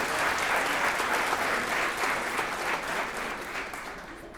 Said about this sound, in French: je pense qu'ils méritent encore une bonne main d'applaudissements